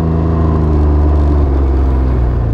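Can-Am Ryker 900 three-wheeler from 2021 on the move, its engine giving a steady, loud low rumble and whir throughout with a slight shift in pitch partway through, no talk over it.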